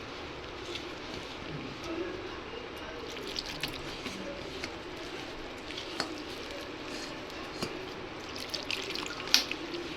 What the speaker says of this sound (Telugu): ఇప్పుడు ఇందులోనే మనం బజ్జీకి సరిపడా వాటర్ కూడా యాడ్ చేసుకోండి.